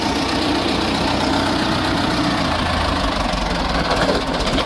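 A Ford 7000 tractor with a 6-cylinder 90-horsepower engine runs steadily, a loud, continuous rumble with a slight knocking texture throughout, no voices.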